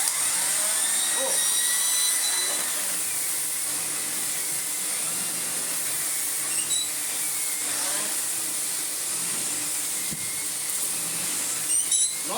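Miele Clean Care S5281 2200W vacuum cleaner running below full power, making a steady, loud, high-pitched whine and airy roar throughout, with faint rattles of debris being sucked up.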